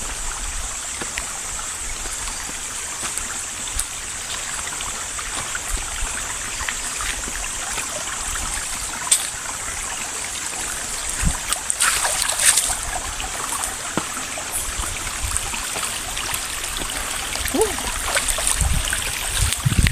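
Steady rushing of a waterfall, a constant broadband wash of flowing water with occasional splashes, close and fairly loud throughout.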